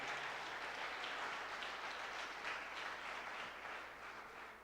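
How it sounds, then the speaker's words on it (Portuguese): Congregation clapping during a church mission service, a quiet, steady wash of many hands heard at a distance, fading slightly toward the end, with no one speaking over it. "Você pode dar uma salva de palmas ao Senhor."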